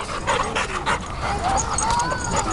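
Several dogs yelp, whimper and bark excitedly close by, with one dog trying to attack the others, in short agitated bursts mixed with a person talking.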